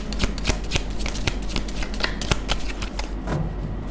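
Tarot cards being shuffled and drawn, close and crisp, with quick riffling flutters and sharp card snaps repeating at a steady, brisk pace throughout.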